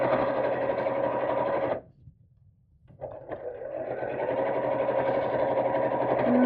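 A sewing machine pushes through thick fabric for a purse organiser in close, continuous runs, broken by one brief stop before starting again.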